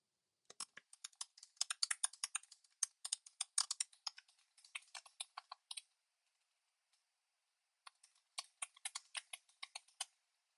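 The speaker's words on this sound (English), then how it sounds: "I'll just type something to show you." Close, crisp keystrokes on a computer keyboard tap out in quick irregular bursts, break off into a near-silent pause of about two seconds, then resume in a final flurry of clicks, with no voices over them.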